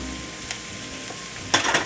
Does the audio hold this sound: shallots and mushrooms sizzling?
yes